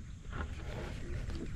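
A small wooden boat being poled through water in a swampy forest area, heard as a low rumbling wash of water with soft sloshing and some wind noise, continuous and close.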